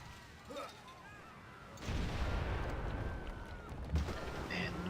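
Artillery fires in the strategy game Civilization V, a heavy booming rumble that erupts partway through and rolls on steadily, loud and close, over quieter game music.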